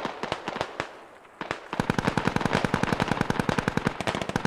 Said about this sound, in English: They left a fire team up here with the medium machine guns.